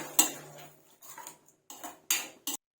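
A spoon clinks and scrapes against a bowl while mixing red chilli sauce and tomato sauce, in four or five short, close bursts separated by quiet gaps.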